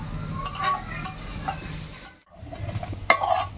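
Potato and greens stir-fried in a kadai, a spatula scraping and stirring through a soft continuous sizzle, with a brief pause midway and a sharper clink of metal near the end.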